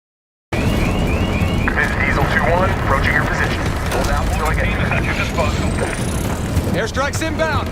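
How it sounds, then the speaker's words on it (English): Airstrike and armored vehicle in Call of Duty: Black Ops 6, with loud rumbling engine and blast noise, whining sweeping tones overhead and busy battle clatter, under voices talking. "Airstrike's inbound. Stay alive till they get here. Armored rolling in."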